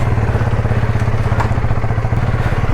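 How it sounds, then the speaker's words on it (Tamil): A motorbike's loud exhaust rumbles close by in a steady, throbbing drone with a rough, pulsing low end and occasional crackle. "வண்டியோட எக்ஸாஸ்ட் தான் பயங்கரமாக கேட்குது"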